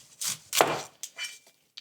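A knife cuts through a large onion on a board, making four or five close, crisp slicing strokes in an uneven rhythm.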